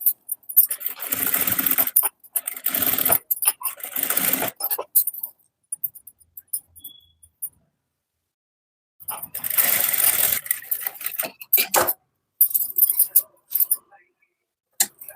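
A sewing machine stitches invisible piping onto fabric in two fast, close bursts of running, separated by a few seconds of near silence, with brief clicks and handling noises afterward.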